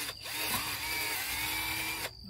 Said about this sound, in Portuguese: Agora vocês vão precisar de uma furadeira, ó, dessa aqui, ó. Já tá furando aqui onde a gente vai prender a corda.